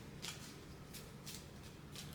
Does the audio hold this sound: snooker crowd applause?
no